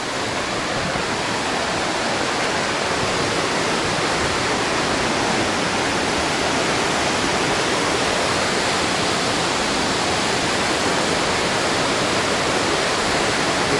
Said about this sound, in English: So this is the top of the waterfall.